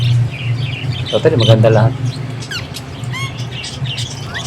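Indian ringneck parakeet giving squawks and short rising chirps amid other parakeet calls, heard under steady talking and a low background hum.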